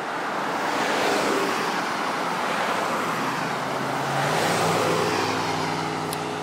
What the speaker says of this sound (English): waiting for cars to pass.